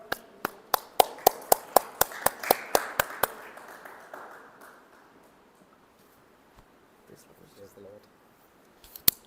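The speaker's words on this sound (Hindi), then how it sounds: "हम जोरदार उनके ताली बजा के उनका स्वागत करें" A church congregation claps to welcome the pastor at a fasting prayer gathering: a run of sharp, evenly spaced claps, fairly close and loud, tapering off after a few seconds into quiet murmuring, with one final clap at the end.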